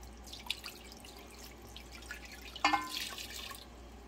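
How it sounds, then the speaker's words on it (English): Two cups of 5% white vinegar poured into a pepper hash mixture for canning, heard as a faint, brief liquid splash and trickle after quiet room tone. "So we're adding the 2 cups of white vinegar."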